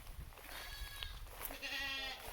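Goats in a farm herd bleat and cry out with shrill, wavering calls that sound like screaming children, several overlapping voices close by against steady outdoor background noise.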